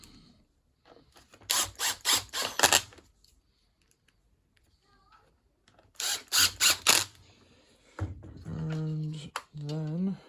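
Screws driven into the housing of a Bosch AHS 40 24 hedge trimmer during repair, heard as two close bursts of quick ratcheting clicks, followed by someone speaking.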